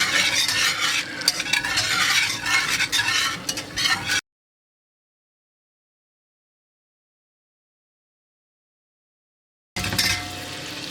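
Chopped onions frying and being stirred in melted butter in a pan for scalloped potatoes and ham, a loud close sizzle with scraping stirs, cut off by several seconds of silence before the sizzle returns.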